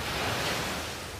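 Ocean waves wash onto a beach in Barcelona at dawn, a dense, broad roar of surf that stays continuous and fairly loud, close by, with some wind buffeting and no speech.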